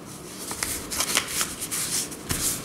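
Paper is being folded and creased to make a toy rocket, giving close, soft crinkling and rustling with a few crisp snaps, with no talking heard.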